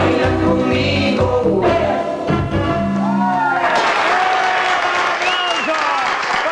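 Applause from a studio audience on a Spanish-language talk show after a live performance of a song, steady and fairly loud, with a host talking over it and music fading out underneath.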